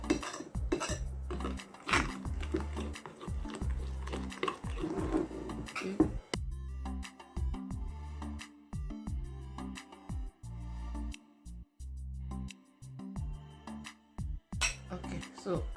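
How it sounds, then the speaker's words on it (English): Homemade chocolate mixture being stirred in a bowl, with a utensil repeatedly scraping and clinking against the sides in a steady rhythm, close and fairly quiet, with a short louder flurry of clatter near the start. "So you mix it thoroughly."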